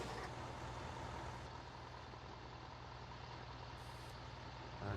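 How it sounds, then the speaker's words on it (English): A heavy truck in the Farming Simulator game is manoeuvred into position, its steady engine drone running loud and continuous throughout, with a reversing beep that comes and goes. "I'm going to try and jockey the truck into position."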